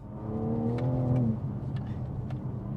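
A 2021 BMW M4 engine revs hard, a rising harmonic whine that climbs for about a second and a half before dropping into a steady, loud drone inside the cabin.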